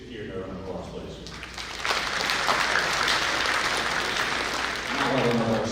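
Audience applause at a high school football signing ceremony, a steady wash of clapping that swells after the first couple of seconds and keeps going, with voices mixed in underneath.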